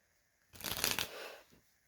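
A Svengali deck of playing cards riffled during a magic trick, a single brisk burst of flicking and shuffling cards lasting about a second, close and crisp, with quiet around it.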